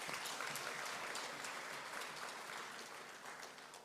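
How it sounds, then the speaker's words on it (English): Sustained audience applause for the special and chief guests at a congregation resource mobilization event, dense and steady throughout before easing slightly toward the end. "So let's give the special guest and the chief guest a clap."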